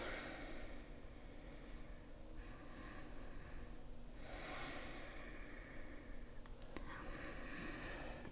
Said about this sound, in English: It's a fantastic breathing technique.